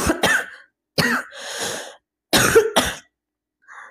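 A woman during a live chat coughs in several harsh bursts, two quick pairs separated by pauses with a breathy throat sound between them, close and fairly loud against a quiet room.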